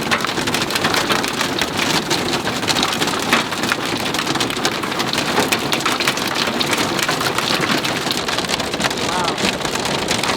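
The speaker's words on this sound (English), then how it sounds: "Decent marble size hail." Dense hail around marble size pelts down steadily from a mountaintop storm with thunder, a loud unbroken hiss and patter of impacts that lasts throughout.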